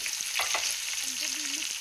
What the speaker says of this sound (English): Now we put in onions